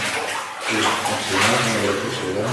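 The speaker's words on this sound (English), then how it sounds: "I hear a fair amount of rushing water ahead." Continuous rushing water fills an old gold mine tunnel, a dense, steady roar with no pauses, close and fairly loud.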